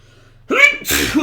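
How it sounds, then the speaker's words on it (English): A single big human sneeze bursts out abruptly after a quiet moment, a sharp intake then a loud explosive release, close to the microphone. "That was a very big sneeze."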